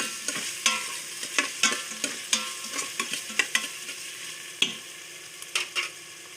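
A spoon stirs food in a pan after salt goes in, giving a run of sharp, irregular scrapes and clinks over a soft sizzle, close and fairly quiet, with no voices.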